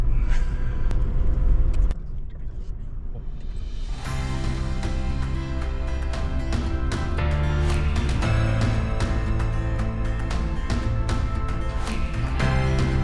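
A car drives along the road on the ride back from Cape Lookout, a steady low engine and road rumble lasting throughout, close and fairly loud, with music and no talking.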